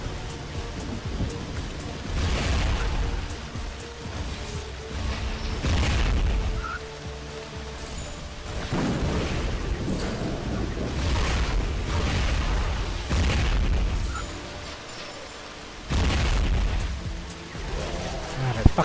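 Steady heavy rain pours throughout a Zombie Driver HD stormy scene, with repeated deep rolling thunder booms swelling and fading every few seconds amid lightning strikes, loud and close.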